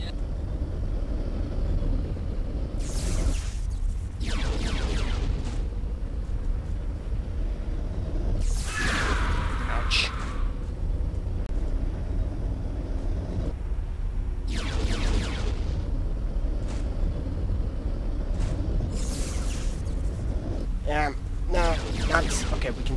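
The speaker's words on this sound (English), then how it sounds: "Fire mortar." Mortar fire and explosions in Bionicle: The Game, a string of bursting blasts and rumbles over a steady low game drone, with someone talking through much of it.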